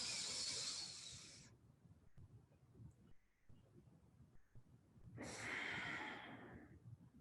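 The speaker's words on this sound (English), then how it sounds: "I'm going to breathe in for 5, hold for 5, and exhale for 5." Slow yoga breathing during a Kundalini practice: a long airy inhale, a quiet held pause, then a long breathy exhale, close and alone with no talking.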